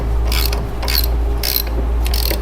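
Ratchet loosening a 21 mm bolt on a 2002-2007 Jeep Liberty passenger-side control arm, four quick bursts of clicking pawl strokes in a steady rhythm, close and loud over a constant low hum.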